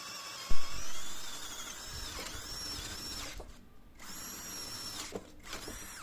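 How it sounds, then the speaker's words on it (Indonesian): A Hasston cordless drill bores into wood with a 25 mm bit at low speed, giving a high, strained whine that cuts out briefly twice as the bit catches, with a thump near the start. "Kita naikkan lagi ke mata bor ukuran 25 mili."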